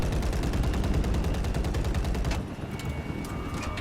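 Rapid automatic gunfire rattles in a video game match as a steady, dense stream of shots that cuts off sharply, leaving quieter background game sounds.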